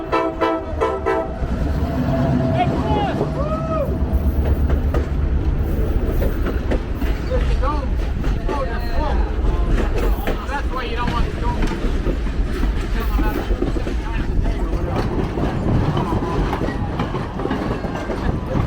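Lehigh Gorge Scenic Railway train passing on the adjacent track, heard from aboard a Reading & Northern passenger train, with a horn blast at the start, then loud continuous rumbling and clickety-clack of the cars rolling by.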